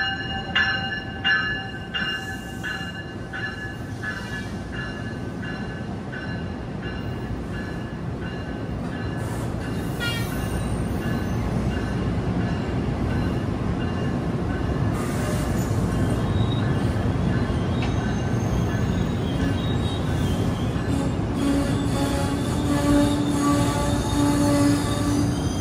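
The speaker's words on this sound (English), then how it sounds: "Oh, it's 4101 on the Hackettstown train." An NJ Transit train, unit 4101 on the Hackettstown run, passes through Summit, New Jersey during the evening rush. Its wheels squeal steadily and grow louder over a continuous rolling rumble.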